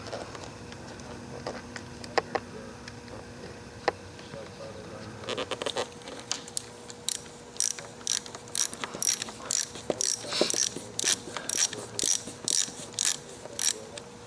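A ratchet tightens the lever pivot nut on a 2013–2018 Kawasaki Ninja ZX-6R 636 motorcycle, with quick close clicking bursts in a repeated rhythm after a few softer handling noises, fairly quiet.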